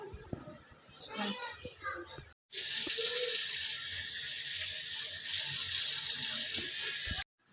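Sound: washing face with water after face pack

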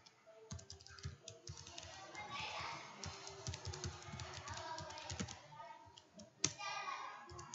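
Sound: typing on a computer keyboard while writing a Selenium script

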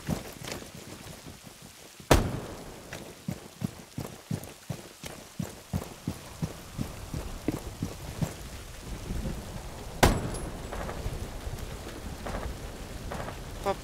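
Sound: rain in the video game Rainbow Six Siege

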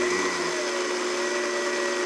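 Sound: high-speed blender grinding seeds

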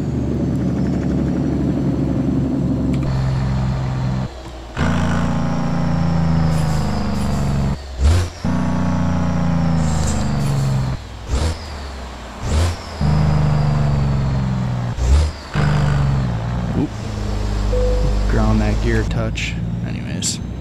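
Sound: 700hp 389 truck engine revving in video game American Truck Simulator

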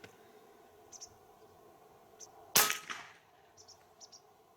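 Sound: Hatsan AT44 Long 4.5 mm PCP air rifle shot

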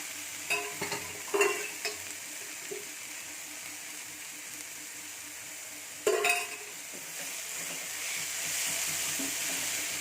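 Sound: frying in white oil in a pan

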